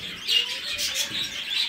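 Parrots kept for sale chirp and tweet continuously, a bright chattering flock sound close by with overlapping high calls and no talking.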